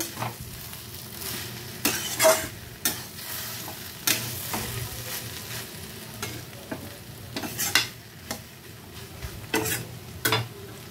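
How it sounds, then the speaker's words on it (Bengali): A spoon stirs garam masala powder into a taro curry in a pan, with repeated scraping strokes over a low steady sizzle, close and moderately loud. "এখন গরম মশলা গুঁড়োটাকেও একটু আমি ভালো করে মিশিয়ে নেব।"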